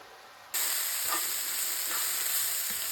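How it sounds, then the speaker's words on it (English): Steady, loud sizzling of mushrooms and onion frying in a hot pan, with a constant bright hiss and occasional soft stirring clinks. "Here I'm frying some mushrooms with onion"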